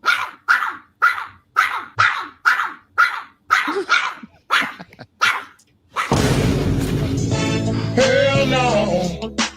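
A dog barks in a steady series of about nine loud, evenly spaced woofs, then a dense burst of noisy, whining, tonal sound follows and fills the rest.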